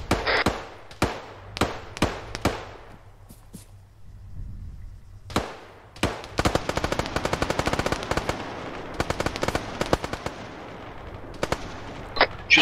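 Gunfire from the military video game Arma 3: scattered single shots, then sustained rapid automatic bursts, loud and close, with faint radio chatter in places.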